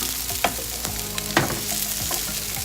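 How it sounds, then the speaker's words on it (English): Broccoli and onions sauteing in extra virgin olive oil give a steady close sizzle and fry with a few sharp clicks of stirring, no talking. "The broccoli has been sauteing and it's nice and tender"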